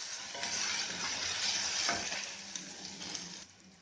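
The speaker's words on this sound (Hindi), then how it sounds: "साथ में हम ये हरी मिर्च भी डाल देते हैं।" Green chillies frying in hot oil with onions over a medium flame, giving a dense, bright, steady sizzle close by that eases slightly toward the end, with no talk.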